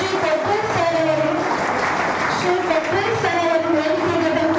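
Applause greeting a guest invited on stage at a farewell and welcome ceremony in a Bengaluru hotel, steady clapping from an audience heard beneath a voice speaking over a microphone.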